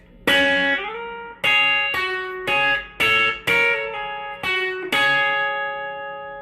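An electric guitar plays a lick with the bar held across the top two strings and only the B-string fingers moving: about eight ringing two-note stabs in a steady rhythm, some bending or sliding into pitch, close and clean with no talk.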